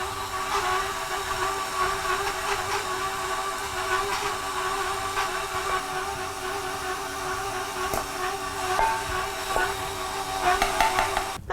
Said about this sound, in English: So I'll start the butter creaming and then I'm going to gradually add in the sugar